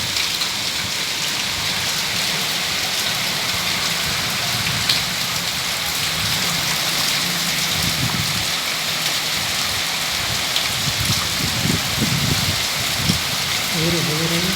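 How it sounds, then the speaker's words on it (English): Very heavy rain pouring steadily and loudly onto surfaces, a dense unbroken roar that lasts throughout with a few low thumps. "Very heavy rain."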